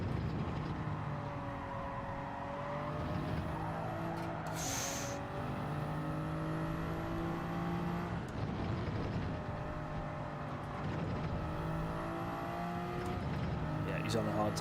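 A race car engine drones steadily as it enters the pits in Gran Turismo 7, shifting pitch with gear changes and throttle, while someone talks over it now and then.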